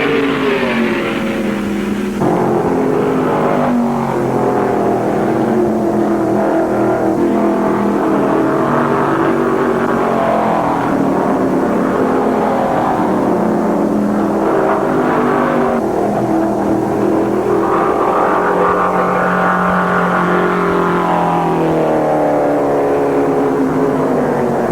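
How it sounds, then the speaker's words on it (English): Mid-1970s NASCAR stock cars, including David Pearson's Mercury, roar continuously around the oval at the 1974 World 600, a dense rising and falling engine drone with overlapping passes and no break. "In the third pocket, David Pearson slams the Mercury home underneath Petty to swap leads once again"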